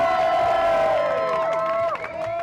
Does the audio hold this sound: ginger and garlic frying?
no